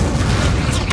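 The Incendio fire spell in the Hogwarts Legacy video game lands as a loud, dense whooshing boom, a thick roaring burst that fills the whole second without letting up.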